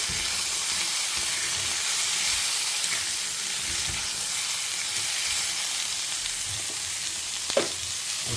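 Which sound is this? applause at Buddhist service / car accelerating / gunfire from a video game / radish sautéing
radish sautéing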